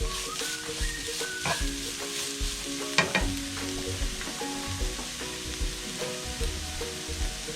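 Mushrooms and onion stir-fry in an uncovered pan for a coconut mushroom thoran, giving a steady sizzle broken by repeated scrapes and clacks of a spoon stirring, close and moderately loud, with no talking.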